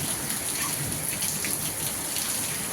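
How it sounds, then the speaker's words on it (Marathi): Steady, even rain of the first downpour of the year pours down outdoors among trees, a dense continuous patter of drops on surfaces that stays constant and close throughout, with no voices. "तर असा मस्त असा पाऊस चालू झाला आहे"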